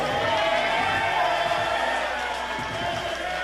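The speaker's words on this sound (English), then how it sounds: "A lot of excitement in the crowd for him." Spectators at a Babson College student boxing event cheer boxer Angel as he comes out, a steady roar of crowd noise with scattered whoops and a commentator's voice running beneath it.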